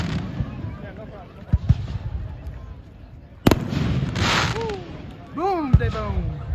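Fireworks burst overhead at a 2021 display, with several sharp bangs and crackles, rising whistles and a louder blast midway, while people talk and exclaim nearby.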